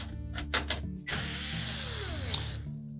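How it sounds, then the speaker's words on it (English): Power driver backing hex head screws out of the rear access panel of a GE range, a few soft clicks and bumps, then a loud close-up whirring burst lasting about a second and a half. "We'll simply remove the screws that secure the access panel in place."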